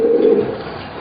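Young racing pigeons coo in a loft in Taiwan, a steady low murmuring call that sounds close and fills the whole brief moment.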